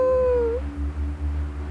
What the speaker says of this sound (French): Un petit hurlement surgit.